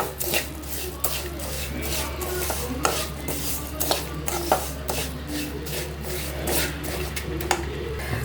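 Spoon scraping and stirring coriander powder, garam masala and turmeric through a sweet corn and capsicum curry in a pan, with repeated sharp scrapes and clinks in an irregular rhythm over a steady low hum, no voice.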